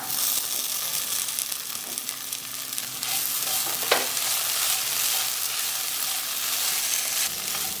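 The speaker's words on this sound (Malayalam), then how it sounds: "പൊടികളുടെ പച്ചമണം പോകുമ്പോൾ വാട്ടി വെച്ചേക്കണ വെണ്ടയ്ക്ക ചേർക്കാം" Okra with spice powders stirs in a hot pan, producing a steady dense sizzle broken by occasional soft scrapes and one sharper clank of the utensil.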